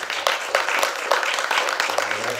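Applause breaks out in a board meeting, a steady wash of many hands clapping with scattered sharper claps across a short stretch.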